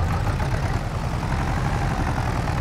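A small, underpowered tractor engine strains under load in the Farming Simulator 22 video game, a low, steady, rumbling drone with no talk over it.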